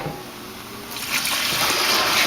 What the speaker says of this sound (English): now I'm gonna start pouring in the chicken broth